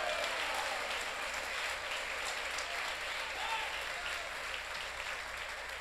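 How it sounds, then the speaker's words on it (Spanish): A church congregation at a Sunday morning service in Barquisimeto, Venezuela applauds steadily, a dense, even wash of clapping that holds at a moderate level for several seconds without any voice over it. "Un aplauso al Señor"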